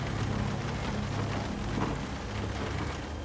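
Rain falls steadily in Tomb Raider: The Angel of Darkness as a dense, even hiss. Low rumbles lie beneath it, close and unbroken, with no voices.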